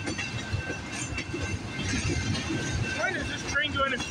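Long freight train of ethanol tank cars rolling past at Delray Junction, a loud steady rumble with faint wheel squeals, while someone talks over it.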